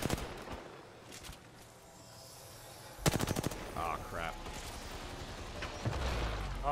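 Rapid automatic gunfire from Apex Legends, with a sparse burst early on and then a dense, loud stream of shots from about three seconds onward as a player fires at an object, with faint game effects in between.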